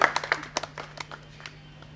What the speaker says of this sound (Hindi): एक बार जोरदार ताली बजाइए भाई